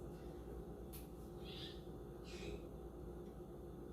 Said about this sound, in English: one of my parrots has taken over the video